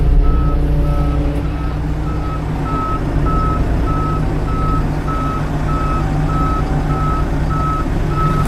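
A truck's reversing alarm beeps steadily at an even pace, repeated over a constant low engine rumble with no talking.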